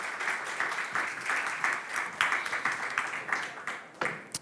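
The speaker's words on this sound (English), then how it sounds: "Big applause for him" An audience at a game-industry conference event claps and applauds to welcome a concept artist to the stage, a steady dense wash of hands across the room, with a single voice briefly audible near the end.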